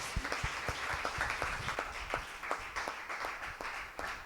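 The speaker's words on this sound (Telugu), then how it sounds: "గట్టిగా దేవుని చప్పట్లు కొడదామా?" Congregation clapping loudly in unison at a Holy Mass, a steady rhythmic beat of many hands about three claps per second, sustained throughout over a faint crowd murmur.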